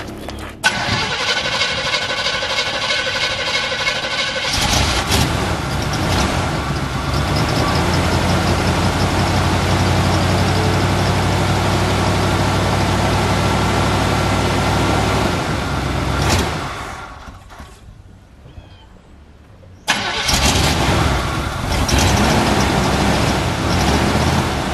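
An old work truck on a cold morning, sitting unused for about a week, cranks briefly on a new high-cranking-amp battery and fires up, settling into a loud steady idle before the engine cuts and then restarts.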